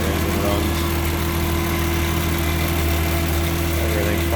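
A 1965 Ford Mustang Coupe engine idling smoothly, a steady low hum with even harmonic tones and slight vibration, close by, with an electric cooling fan running nearby.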